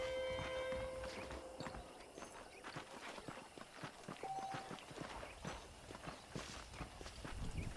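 Horse hooves clip-clop at a walking pace in the Red Dead Redemption video game, steady and fairly close, with a quiet ambient bed underneath.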